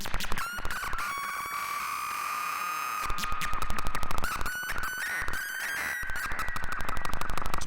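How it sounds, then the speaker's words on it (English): Feedback from a mixer and fuzz pedal patch produces wailing, gliding tones like gibbon or seagull calls, sweeping up and down over rapid rhythmic crackling pulses, loud and continuous with no talk. "So you've got a kind of gibbon seagull noise there."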